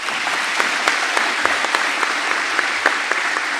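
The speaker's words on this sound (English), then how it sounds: "Give yourselves a round of applause." Audience applause fills a graduation ceremony at Perry Technical Institute, a dense, steady wash of many hands clapping with scattered sharper claps standing out, sustained throughout.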